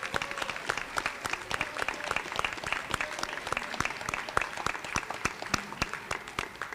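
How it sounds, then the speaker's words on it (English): A school awards assembly audience applauds two-year members with scattered, fairly sparse clapping, individual claps clearly distinct and fairly close, holding steady for several seconds. "let's give them a round of applause"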